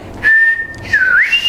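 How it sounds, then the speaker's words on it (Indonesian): A clear, loud whistle made through the teeth, held steady, then sliding down and back up in pitch, close and alone. "Nah, siul giginya ini"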